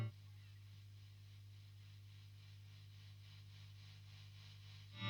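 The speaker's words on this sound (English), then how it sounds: "When it's on and you're not playing, the BOO Instruments Tremolo sounds like this." A BOO Instruments Tremolo pedal switched on with nothing played, giving off a steady low mains hum under a faint hiss that stays constant throughout.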